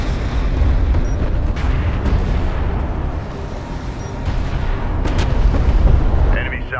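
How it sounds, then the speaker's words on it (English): Sustained, heavy gunfire and explosive rumble in the real-time strategy game Deserts of Kharak as a bomber comes under fire, loud and dense throughout with a few sharper bursts. "Our bomber is under enemy fire."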